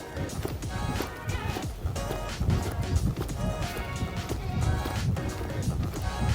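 A horse lopes around an arena, with a steady muffled hoof rhythm thudding through a dense, continuous wash of ambient noise.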